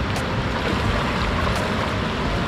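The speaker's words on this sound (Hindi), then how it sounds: "गाइस पानी का इतना तेज बहाव है ना ऊपर से, जो कि आप देख पा रहे हो" A strong river current rushes in a loud, unbroken wash of water, steady and close throughout with no voices.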